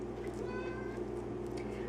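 A pet cat meows insistently for food somewhere in a home kitchen, soft and drawn out behind a steady low hum of background noise.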